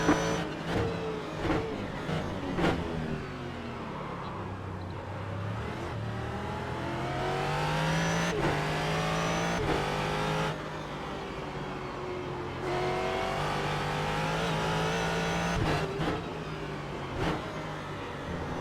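A Ford GT race car engine in the iRacing sim revs and shifts through a race, rising and falling tones over a low drone, with sharp gear changes and brief lifts under braking.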